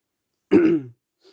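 A single short, forceful throat clearing, close and fairly loud, with a faint small sound following a moment later.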